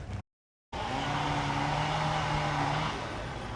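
A car engine revs nearby in a park in Gadsden, Alabama in the rain; after a brief silent gap, a sustained, rising engine drone holds for a few seconds, then eases off.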